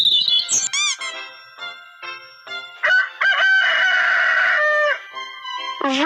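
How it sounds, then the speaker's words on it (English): A rooster crows several times in a loud, close series of harmonic calls, with a few clucks and chirps between the crows and no speech. "Rooster."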